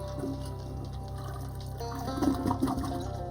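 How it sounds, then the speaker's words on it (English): A toilet flushes in the video game Shadows Over Loathing, a steady rushing and gurgling of water that swells toward the end, heard alone at moderate loudness. "Fully detailed flushing sounds at the beginning of every game."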